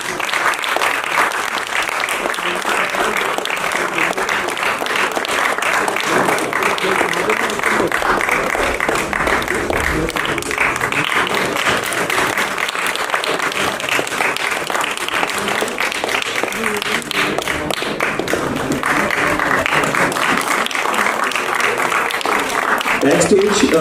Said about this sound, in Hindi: इनको जी तालियां बजाते रहिए।